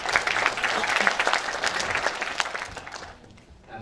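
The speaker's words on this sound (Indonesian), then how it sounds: "Tepuk tangan dulu." Audience clapping at a startup incubator talk, a lively burst of applause that fades after about three seconds, with a voice coming back in at the very end.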